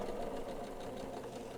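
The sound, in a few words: sewing machine stitching fabric for spring cloak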